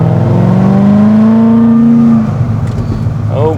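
A 2012 Lingenfelter Corvette Grand Sport, its exhaust set to loud mode, revs up close and loud with a rising, throaty engine note that holds, then drops back to a rumbling idle.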